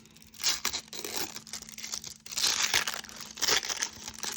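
Close, continuous crinkling and ripping of a paper packet being torn open, with several louder bursts of tearing and rustling.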